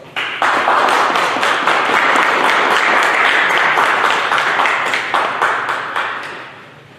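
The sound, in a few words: audience applause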